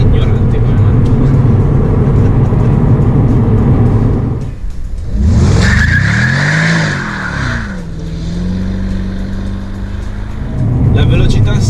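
A Mercedes SLR McLaren accelerates hard, its engine roaring loud and close as the revs climb in a rising sweep before settling into a sustained drone.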